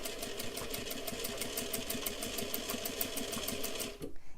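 Sewing machine stitching neck lining onto a girl's pinafore dress bodice, a steady rapid mechanical chatter at close range that runs evenly and stops abruptly near the end.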